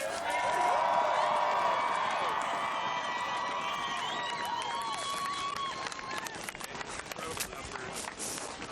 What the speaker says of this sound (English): Ladies and gentlemen, how about a big round of applause for Mitch Seavey?